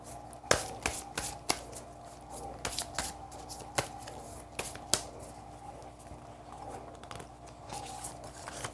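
Tarot cards being shuffled in a quiet room: a run of crisp riffling snaps and soft papery slaps, close and moderately loud, with no talking.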